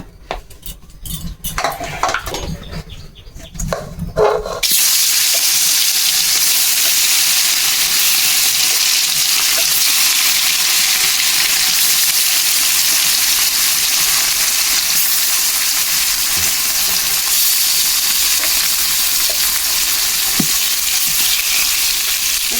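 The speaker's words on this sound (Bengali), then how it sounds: "তেল গরম হয়ে গেছে মাছগুলো দিয়ে দেবো" Fish for a taro fish curry dropped into hot oil, starting with a few scrapes and clatters, then a loud, dense, continuous sizzle of frying that carries on steadily.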